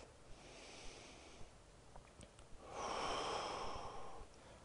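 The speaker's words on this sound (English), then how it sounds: "One more breath." Slow, deep breathing during a beginner's hip flexibility stretch: soft airy inhales and a fuller, louder exhale swelling midway, faint and close, with no talking.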